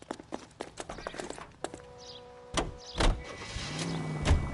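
A car in a video game, starting with a string of quick footstep-like clicks, then a door thud and a low engine rumble as the vehicle pulls away, close and moderately loud.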